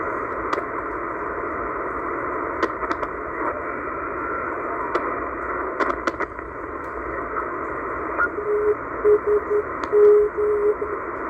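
Shortwave receiver tuned to a channel marker on the 8 MHz band: steady band-limited hiss with scattered sharp clicks, and a short series of faint beeping tone pulses near the end.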